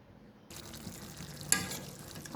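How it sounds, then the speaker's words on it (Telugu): Spiced chicken pieces dropped into hot oil, a sudden sizzle starting after a short quiet moment and continuing as a close, steady crackle, with a brief sharper burst partway through. "ఆయిల్లో వేసి ఫ్రై చేస్తున్నానండి"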